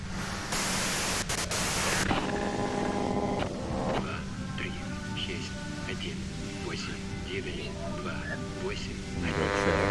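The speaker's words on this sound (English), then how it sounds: "you can do it through the white noise" Burst of harsh static white noise in the video game Disco Elysium, loud and brief near the start, followed by ambient game sounds, music tones and voices talking.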